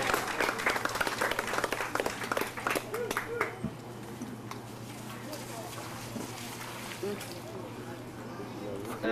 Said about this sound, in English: Let's have a round of applause for what Cliff has shown us so far.